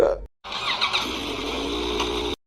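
A motorcycle engine runs steadily and close by for about two seconds after a short silent gap, then cuts off abruptly.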